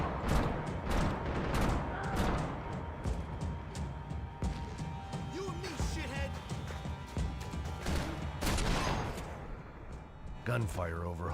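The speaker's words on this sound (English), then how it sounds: "Gunfire over Hoboken." Gunfire in the Max Payne video game, a dense, continuous stretch of rapid shots, crashes and impacts at steady loudness, with game voices and effects mixed through it.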